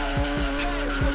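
BMW M4 launching off the line in a drag race against a Toyota Chaser, engine droning loud and steady with tire squeal and wheelspin noise throughout a short burst.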